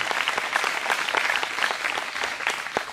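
Congregation applauding warmly at an ecumenical church gathering of pastors and a priest, steady dense clapping from many hands filling the room throughout.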